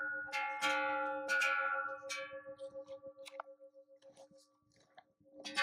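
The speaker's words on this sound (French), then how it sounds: "Fait un bordel avec sa cloche." Metallic clanging of a bell hung on an animal along a Swiss hiking trail, several strong ringing strikes early on, then a steady pulsing jangle fading away.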